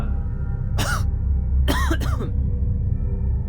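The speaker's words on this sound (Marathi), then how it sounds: "खरोखरच त्या बंद खोलीतून आतमध्ये कोणीतरी खोकत होते" Three sharp coughs from one person, close and loud: a single cough, a pause, then two quick coughs together, over a low steady hum.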